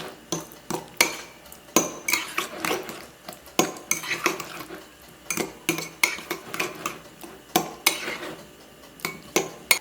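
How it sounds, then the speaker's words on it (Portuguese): A fork beats two ingredients together, banana and oats, in a bowl with rapid, irregular clinks and scrapes against the sides, close and fairly loud throughout. "Agora, venho com um garfo para fazer a mistura desses 2 ingredientes."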